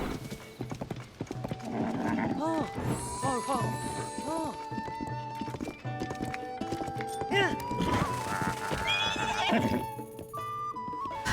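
Horse in Tears of the Kingdom neighing repeatedly over a steady clip-clop of galloping hooves, with layered game music and effects throughout and a person talking over it.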